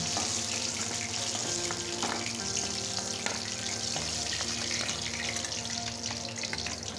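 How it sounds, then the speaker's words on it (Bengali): Green banana being rubbed and washed in hot water makes a continuous close splashing and rushing wash that stays dense and even from start to finish. "এই যে গরম জলে আমি কলাটা ভালো করে এইভাবে কষলে ধুয়ে নিচ্ছি"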